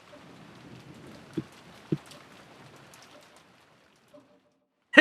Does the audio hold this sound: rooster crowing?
no